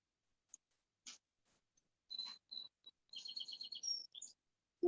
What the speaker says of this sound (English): someone has birds